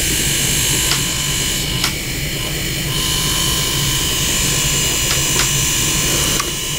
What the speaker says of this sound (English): that motor is spinning